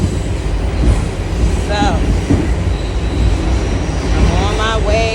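A local C subway train rumbles along with a steady low roar and some high squeals from the wheels, heard from inside a nearly empty car, while someone speaks briefly over it.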